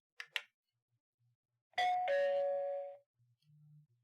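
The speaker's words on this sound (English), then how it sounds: "Now I'm going to press the doorbell and it should move back to the saved position." Bosma X1 video doorbell chime: a short two-tone electronic ding-dong ringing clearly and alone after a couple of brief clicks from the button press, with a faint low hum near the end.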